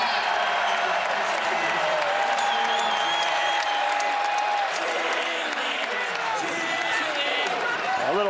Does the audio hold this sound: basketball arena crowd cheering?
yes